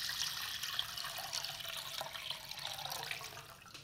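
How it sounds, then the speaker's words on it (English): Water with flower food pours steadily into a vessel, a soft continuous splashing trickle heard close up for a few seconds with no talking. "Then I take flower food water and add it into the vessel."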